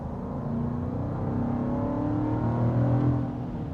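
2023 Land Rover Defender V8 on a test drive, a steady low engine drone from inside the cabin that swells slightly as it accelerates, with no talking.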